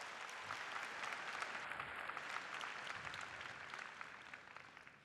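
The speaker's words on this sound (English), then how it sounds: "More thunderous, more lion applause, please." Audience applause fills the clip, a dense even patter of many hands clapping together, steady and fairly distant.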